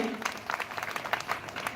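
A crowd at a school Independence Day (15 August) program breaks into applause, a somewhat faint, distant patter of many clapping hands that runs throughout with no clear talk.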